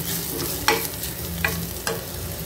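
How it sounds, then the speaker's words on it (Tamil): Grated coconut and onion sauté in hot oil in a pan, a steady close sizzle with a few sharp scraping stirs breaking through at intervals. "இதே இந்த எண்ணெயில் வதக்கிக்கலாம்"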